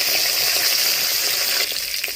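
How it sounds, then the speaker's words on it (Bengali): Fish fries in hot oil on its second side, a close, steady bubbling sizzle with faint crackles that dips slightly toward the end, with no voices. "আরেক পিঠ ভাজা হোক, আপনাদের দেখাচ্ছি"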